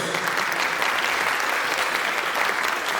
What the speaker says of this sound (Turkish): Kocaman alkışlarınızla Defne Kutköz.